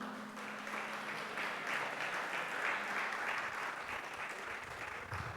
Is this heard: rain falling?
no